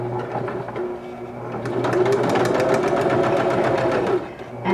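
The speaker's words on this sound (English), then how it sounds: "I'm keeping very close to the edge as I sew" A sewing machine stitches close along a skinny scarf's edge, running in a steady fast mechanical chatter that speeds up midway and holds, loud and alone.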